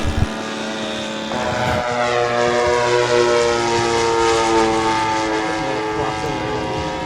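A radio-controlled Hellcat warbird model plane in three-tone blue Pacific colours makes a crosswind landing, its propeller engine droning loudly and steadily with a wavering, slowly shifting pitch, close and continuous, with a brief voice at the start.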